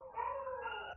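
A dog howls briefly in the background, a single drawn-out, wavering wail lasting about a second at moderate distance.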